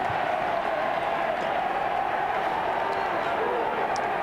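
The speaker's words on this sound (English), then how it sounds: "So the crowd starts to get a bit of noise, chanting for their Bears" A stadium crowd at a 1996 AFL match between Brisbane and Fremantle, a dense continuous roar of fans chanting for the Brisbane Bears, steady and fairly distant throughout.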